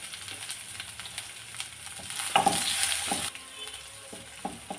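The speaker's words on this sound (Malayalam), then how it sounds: "ചെറിയുള്ളി കറിവേപ്പിലയും കൂടെ എടുത്ത് വെച്ചിട്ടുണ്ട് അതും കൂടി ഇട്ട് കൊടുക്കുക രണ്ട് വറ്റൽ മുളക് അതും ഇട്ട് കൊടുക്കുകയാണേ" Shallots, curry leaves and dried red chillies fry in hot oil for an eggplant yogurt curry, a close, bubbling sizzle with repeated spatula scrapes and a brief louder hissing surge midway.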